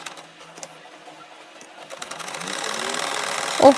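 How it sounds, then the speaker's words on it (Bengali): A sewing machine stitches through cloth folded into several layers. It starts as faint, sparse ticking, then settles into a steady, louder mechanical whir with a sharp click near the end. "দেখেন একইভাবে আমি ঘুরিয়ে ঘুরিয়ে সেলাইটা করে নিচ্ছি।"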